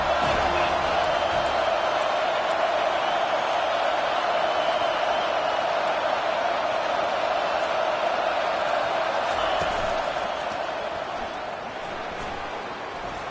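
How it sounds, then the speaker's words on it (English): A broad, sustained roar of a large stadium crowd in the video game College Football 25, loud and continuous, easing slightly toward the end. "It is getting loud as this crowd tries to help its defense."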